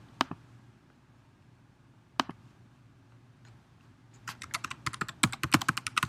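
Computer keyboard typing: a couple of isolated key taps at first, then a fast, steady burst of close clicking keystrokes, with no talking.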